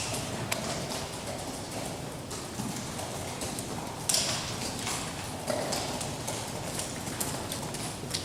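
Horses' hooves clip-clop steadily while being ridden through various gaits at an Icelandic riding course, a continuous rhythmic patter against broad outdoor noise, fairly distant.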